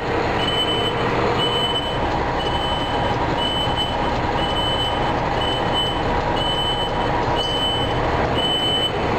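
A truck backing up slowly at idle, its reversing beeper sounding in a regular repeating pattern over a steady low diesel engine rumble.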